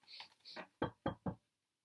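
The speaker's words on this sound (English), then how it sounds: "the minute I knocked on the door" Three sharp knocks on a door come in a quick even rhythm, close and distinct, after a brief soft vocal lead-in.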